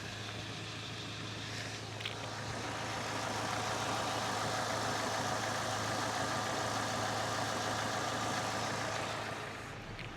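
A 2002 Ford Ranger 2.3L four-cylinder pickup engine idles steadily after a radiator replacement, a low, even rumble, moderately quiet and unchanging, no one speaking.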